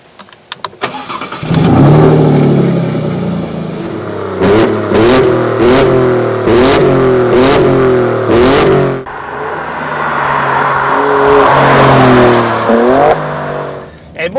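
Alfa Romeo Stelvio Quadrifoglio Verde with its 510 hp engine starting and revving loudly nearby: a series of sharp throttle blips rising and falling, then a longer swelling rev before settling to idle.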